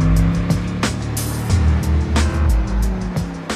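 Mercedes SL63 AMG 6.3 liter V8 engine rumbling low and loud, with repeated sharp bursts and swells roughly every half second like revs or gear shifts.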